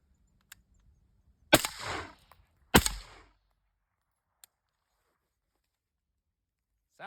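Two loud gunshots ring out against a steel plate target, each followed by a short metallic decay, with faint ticks before and after in an otherwise quiet setting.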